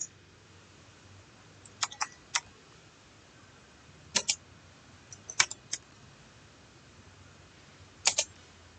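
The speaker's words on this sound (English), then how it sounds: "Now what you need to do is type in your copyright." Typing on a computer keyboard while coding a basic HTML business webpage: quiet, sparse clusters of key clicks separated by long pauses, with no talking.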